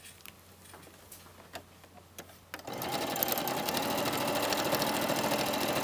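A sewing machine stitches a jacket sleeve. A few faint ticks come first, then the motor starts and runs in a fast, steady, close-up whir of stitching for several seconds, with no voices.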